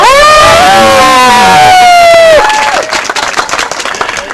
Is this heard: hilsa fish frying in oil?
no